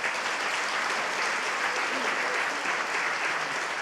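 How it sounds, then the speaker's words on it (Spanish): Loud, dense applause from an audience at a patients' event, an unbroken roar of many people clapping that holds steady throughout. "Dense un aplauso,"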